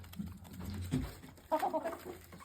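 A mug blend hen with a gypsy face gives a few soft, short clucks in a quick burst, close by but fairly quiet over a low background hum.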